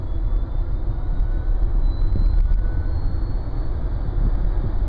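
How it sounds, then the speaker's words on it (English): A faint, thin high pedestrian warning whistle rides above a steady low rumble of road noise inside a moving Nissan LEAF electric car. "that whistle is apparently that sound that is needed to warn people that there's an electric car approaching"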